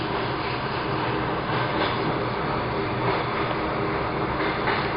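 Inside a Russian suburban electric train on the run between Gatchina and the Baltiysky station, a steady, loud rumble of wheels and carriage fills the cabin, with faint rhythmic clatter over the rails.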